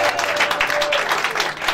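A church congregation applauds in a dense, steady burst of many hands clapping, loud and close throughout, with a few voices mixed in.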